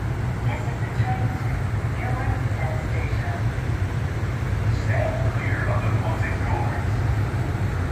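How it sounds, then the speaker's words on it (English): A PATH train bound for Newark Penn Station rumbles steadily at Harrison station, a low continuous drone with faint squeals and clanks above it, as an announcement voice speaks. "This is a train to Newark Penn Station"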